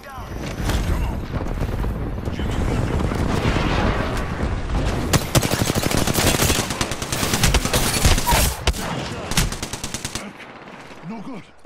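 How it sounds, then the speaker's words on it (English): Airstrike pounding down in Apex Legends: a long, loud barrage of dense rapid gunfire and booming blasts, building and staying intense for about ten seconds before cutting off, with voices talking over the din. "We're on an airstrike coming down."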